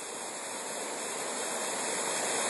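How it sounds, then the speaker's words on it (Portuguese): Cachoeira do Abismo, a waterfall about 60 metres high, roars as a steady, even rush of falling water, loud and unbroken with no voices. "Eis a Cachoeira do Abismo."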